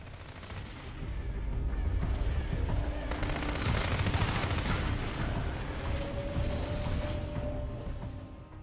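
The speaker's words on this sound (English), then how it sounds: "he can dual wield weapons such as pistols and machine guns" Pistol and machine gun fire from the video game NeverDead, with rapid bursts of shots running continuously and loudly over a dense bed of game effects.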